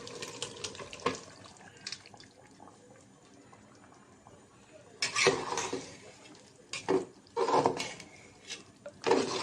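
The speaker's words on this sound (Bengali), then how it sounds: "ভালো করে নাড়াচাড়া দিয়ে একবারে মিশিয়ে দিব" Chicken and potatoes being stirred into a pot for chicken biryani, with spoon scrapes and clanks against the metal in irregular bursts, some louder clatters later, over a quiet kitchen background.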